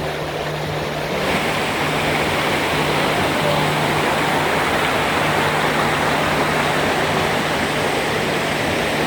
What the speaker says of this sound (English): There's so much water flowing down there.